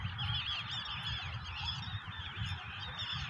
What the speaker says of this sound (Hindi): ये देखिए नेचुरल वातावरण, तालाब, पक्षी, बर्ड्स।